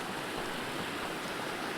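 Fast-running snowmelt creek on a trail near the Mogollon Mountains, a steady broadband rush of water close by with no break, no voices over it.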